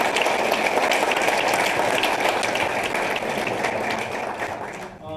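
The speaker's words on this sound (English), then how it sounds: "can we give a round of applause?" Sustained audience applause at a local community meeting about local control in Danville, loud and dense, holding steady for about five seconds before tapering slightly toward the end.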